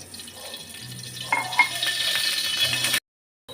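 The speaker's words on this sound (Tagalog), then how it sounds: "Saute onion, garlic, and ginger until brown." Onion, garlic and ginger sauteing in hot oil in a wok, giving a soft continuous sizzle with a few stirring scrapes before it cuts off.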